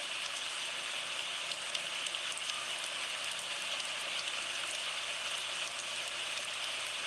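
Steady rain falls in a constant, even hiss with faint pattering drops, moderately quiet and uninterrupted, and no voices are heard.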